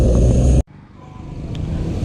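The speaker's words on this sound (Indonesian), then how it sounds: "truk mantap, yellow lewat" A large yellow truck passes on a road by the Selayu bridge: a loud engine roar cuts off abruptly, then a lower traffic rumble builds steadily again.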